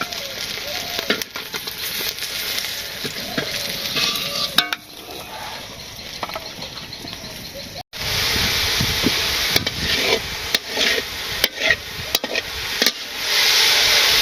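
Sencha greens (shak) fry in a pan over a village cooking fire, giving a loud continuous hiss with scattered clinks and stirring scrapes, and a louder sizzle in the second half.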